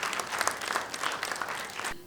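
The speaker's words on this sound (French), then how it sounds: "Je voudrais que vous applaudissiez pour vous-même" Brief, steady applause from a ciné-club audience in a screening room, a dense wash of clapping hands that cuts off abruptly.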